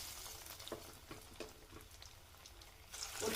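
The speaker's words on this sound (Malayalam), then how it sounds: "നമുക്ക് ഓരോന്ന് എണ്ണയിലിട്ട് പൊരിച്ചെടുക്കാം." Breadcrumb-coated egg lollipops fry in hot oil with a continuous soft sizzle and scattered crackling pops, rising slightly toward the end.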